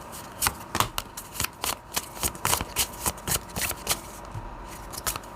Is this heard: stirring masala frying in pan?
no